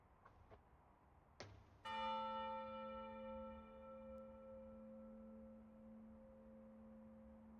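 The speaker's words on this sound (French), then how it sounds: "Oh, la cloche. Une grosse cloche." A big church bell strikes once after a couple of soft knocks, a loud deep clang that rings on and slowly fades, with a steady hum lingering.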